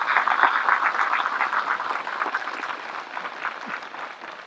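Loud, dense applause from an audience at a devotional satsang gathering, sustained clapping that gradually softens, with no talking over it.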